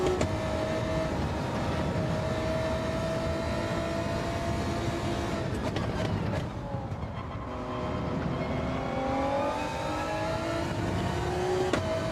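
A race car engine in a GR2 racing video game drones steadily, its pitch rising and falling as gears shift, with another car's engine briefly sweeping past. Nobody speaks.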